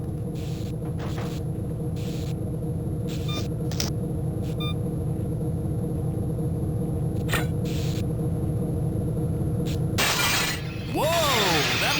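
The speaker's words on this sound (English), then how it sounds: "The glass is cracked." Glass shatters loudly near the end of a stretch of Gunman Chronicles gameplay, a bright crash breaking over a steady low machine rumble and ambient hum that fills the whole scene.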